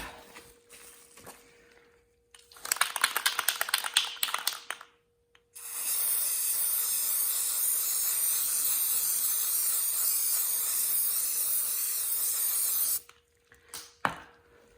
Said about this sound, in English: now I'm going to prime it. We are using Universal Bonding Primer.